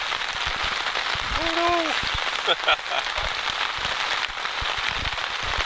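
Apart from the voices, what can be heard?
rain falling, raindrops on a tent while camping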